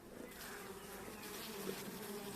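Anatolian honey bees hum steadily at a hive, a dense, continuous buzz close by with no voices.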